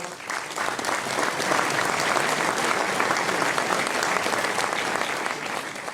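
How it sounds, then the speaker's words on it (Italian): An audience at a Sardinian folk evening in Fonni claps loudly and steadily, a dense sustained round of applause without speech. "Questo applauso ancora più forte, ancora più bello"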